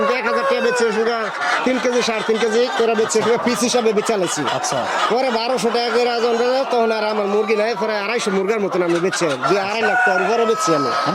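A Tiger breed rooster crows repeatedly on a poultry farm over continuous speech and other chickens, the calls rising and falling close by throughout.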